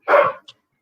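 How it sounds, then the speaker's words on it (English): A dog barks once in the background of an indoor sports chat: one sharp, fairly loud bark followed by a brief, fainter yelp, then silence. "Sorry if you can hear the dog barking in the background again."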